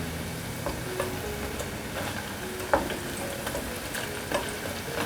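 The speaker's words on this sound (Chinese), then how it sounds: "入多点的油，油热了放进来炸。" Tempeh strips deep-fry in a generous amount of hot oil, giving a steady, moderately loud sizzle with occasional sharper pops and crackles and no talking.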